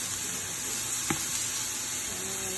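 Lamb meat and onion sizzle steadily in a dry pressure cooker, a constant close frying hiss with a brief stirring clatter partway through.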